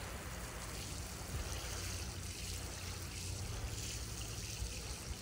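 Water runs off the soil at the base of a dying citrus tree being watered. The trickle is faint and steady, with a soft hiss and no voices.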